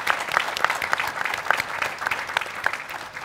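Audience applause for a career panel, a fairly close, loud patter of clapping with distinct sharp individual claps standing out against the crowd.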